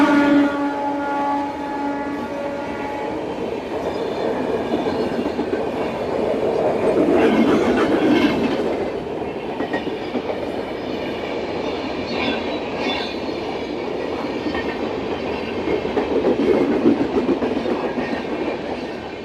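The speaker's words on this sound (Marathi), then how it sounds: "तब्बल 20 मिनिटानंतर ट्रेन आली आता." Tejas Express between Mumbai CSMT and Madgaon passing at Vaibhavwadi station: a long loud rumble of rolling wagons with rhythmic clatter and a high wheel squeal, swelling and easing as the cars go by, no talk.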